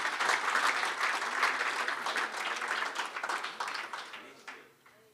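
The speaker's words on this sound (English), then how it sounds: "let's give him a round of applause as he runs to get his notes" A crowd at an awards evening applauds steadily, a dense, moderately loud wash of clapping that thins and fades over the last second.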